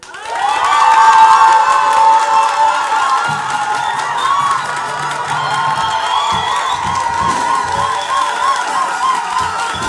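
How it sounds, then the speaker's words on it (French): A church congregation cheers and acclaims the Lord in a loud, sustained roar of voices with whoops and shouts, holding steady for the whole stretch and swelling briefly near the start. "Je vais demander à cette rangée d'acclamer puissamment le Seigneur."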